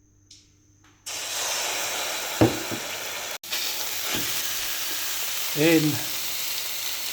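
A small drop of water hits a smoking-hot dry pan for searing sirloin steak and sizzles suddenly, a steady crackling hiss that carries on, with a brief spoken word and a sharp flare near the end.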